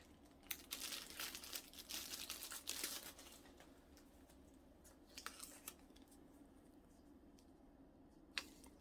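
Small Ziploc plastic bag holding a heater remote being handled up close, with soft crinkling and rustling bursts over the first few seconds, then quieter scattered crinkles and one sharp crackle near the end.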